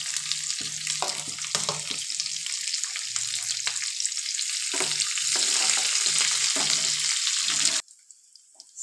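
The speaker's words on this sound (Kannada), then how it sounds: "ಸಣ್ಣ ಉರಿಯಲ್ಲಿ ಸ್ವಲ್ಪ ಕೆಂಪು ಕಾಯಬೇಕು ಈ ಒಗ್ಗರಣೆ" Garlic, mustard seeds and curry leaves temper in hot oil for a quick raw mango pickle, giving a loud, steady close sizzle and crackle with stirring scrapes for most of the clip, then dropping away sharply near the end.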